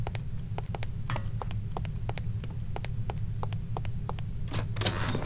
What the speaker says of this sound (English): Ticking, I don't like ticking.